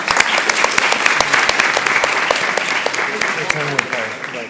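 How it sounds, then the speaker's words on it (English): Audience applause at a PBS panel plenary: dense, steady clapping from a large crowd, close and loud, tapering slightly at the end. "Let's get another round of applause."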